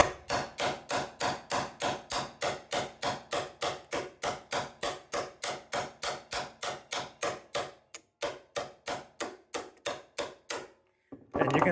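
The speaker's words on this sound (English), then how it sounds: "You just hammer it." Steady, rhythmic hammer blows strike a manual impact driver fitted with a flathead bit, working on an overtightened, seized screw in a wire lug. Dozens of sharp metallic impacts come loud and close, with a short pause near the end before a few more.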